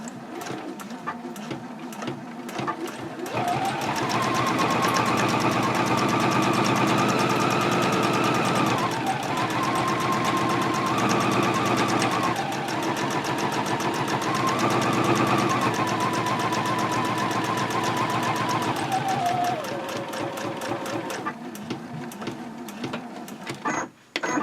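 A sewing machine quilts a long straight line across the Omnia fabric pouch, running loud and continuous for about twenty seconds as its motor whine rises and dips slightly with speed, then tapering off.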